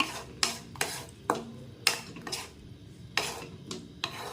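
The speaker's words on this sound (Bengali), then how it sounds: "এবার এটাকে ভালো করে নাড়িয়ে নিই যাতে চিনিগুলো ভালো করে" A spoon or spatula repeatedly scrapes and knocks around a pan of mango chutney as sugar melts into it, making about ten close, rhythmic metallic strokes with no talking.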